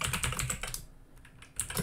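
Quick, close keystrokes on a computer keyboard patter in a brief run, pause for a moment, then resume.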